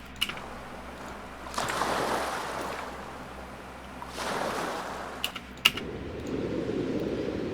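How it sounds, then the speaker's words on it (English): Large ocean waves break in a stereo field recording, with broad rushing swells that rise, crash and recede, plus a few sharp clicks and a lower rumble toward the end. "Oh yeah, and that's some big waves."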